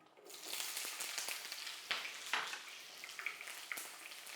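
Onion and curry leaves dropped into hot oil for a South Indian oggarane tempering, a sudden hissing sizzle that rises quickly and keeps crackling steadily, with sharper pops and spits near the pan.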